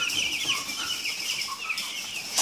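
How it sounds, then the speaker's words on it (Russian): Eleven-day-old Ross-308 broiler chicks on a fine mesh floor give off a dense, continuous chorus of high peeping and cheeping, close and steady throughout with no talking. "Вот такие вот птички у нас. Им сегодня 11 дней."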